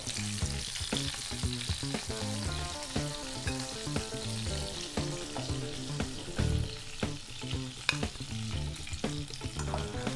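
Fish frying in a pan of oil for a spicy fish curry, a steady crackling sizzle running throughout over a background of music.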